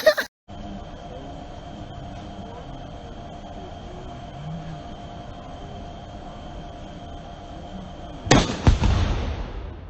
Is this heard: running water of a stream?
no